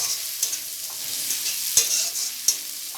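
Ginger and garlic fry in a hot pan with a steady close sizzle, broken now and then by the scrape and clack of a stirring spoon.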